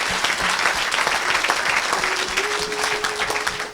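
Applause and cheering from a church congregation at a French-language evangelistic service, steady and dense, filling the room continuously.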